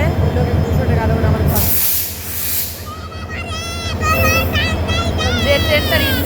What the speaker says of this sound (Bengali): হ্যাঁ, এটা হলো ইঞ্জিন আসছে।